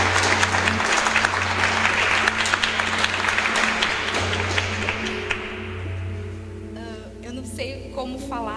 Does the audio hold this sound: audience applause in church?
yes